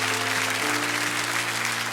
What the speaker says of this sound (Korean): 우리 한 번 더 큰 박수로 축복합니다.